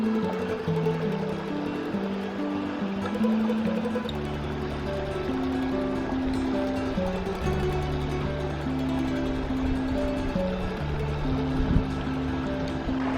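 Water flows steadily over a creek bed while someone wades across, a continuous rushing wash close by with no talk.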